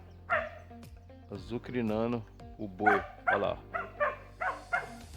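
A dog on a farm barks and yips in short repeated bursts, loud and close, with someone speaking Portuguese over and between the barks.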